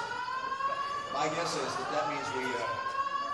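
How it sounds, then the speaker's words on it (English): A building fire alarm sounds as a steady, repeating electronic tone that carries on under a man's speech, a continuous harmonic whine at moderate level. "I presume that's a fire alarm."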